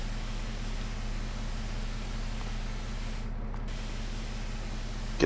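A pressure washer in Farming Simulator 22 sprays equipment with a steady, even hiss over a low engine hum, continuous and unbroken throughout.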